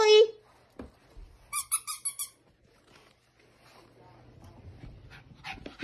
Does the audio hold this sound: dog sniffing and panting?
yes